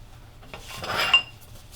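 Copper sheet being bent, a corner folded down over a template with a ruler along the center line; a brief metallic scrape and crinkle rises to a sharp click, close and fairly quiet, with no talking.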